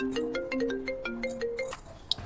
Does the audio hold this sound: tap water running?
no